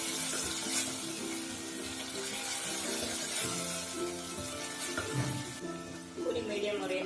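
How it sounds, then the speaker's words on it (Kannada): Tomatoes fry with salt in a pan, giving a soft, continuous sizzle along with occasional stirring scrapes. "ಫ್ರೈ ಆಗ್ತಾ ಇರುತ್ತೆ. ಚೂರು ಉಪ್ಪು ಹಾಕಿದ್ರೆ ಬೇಗ ಫ್ರೈ ಆಗುತ್ತದು"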